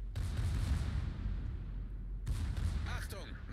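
Heavy warship main guns firing high-explosive shells in a naval video game, a deep booming salvo near the start and a second one about two seconds later, each rumbling out with a long low tail.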